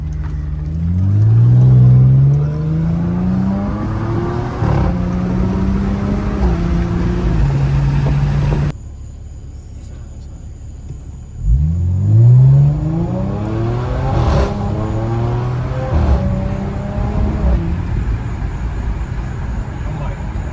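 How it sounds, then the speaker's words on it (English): Car engine with a delete modification revving in two long pulls, each climbing loud and raspy before dropping back to a rumbling idle, close by, with brief voices around it. "Car sounding right."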